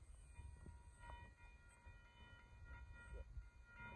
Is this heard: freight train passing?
yes